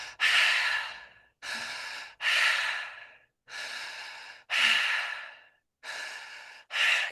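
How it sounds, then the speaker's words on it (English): Deep, rhythmic breaths taken during a breathwork exercise, seven long airy inhales and exhales in steady succession with brief gaps between them, close and fairly loud with no talking. "Keep breathing."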